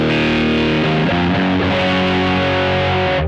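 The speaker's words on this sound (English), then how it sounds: "it's got a really quite interesting distortion texture there" Electric guitar through a Pigtronix Disnortion Micro overdrive pedal, sounding as one loud, continuous distorted chord that rings and shifts slightly before fading at the end, with no voices.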